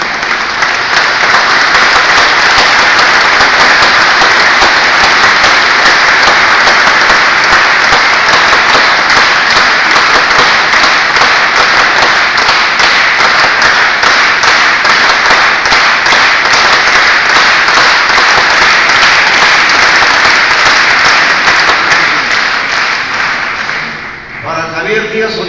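Loud, sustained applause from a conference audience, dense clapping filling the whole stretch before tapering off near the end.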